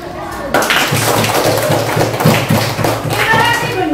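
Students clapping in a classroom during a science lesson, a burst of many hands starting abruptly and continuing in a loose rhythmic pattern alongside voices, fairly loud and close.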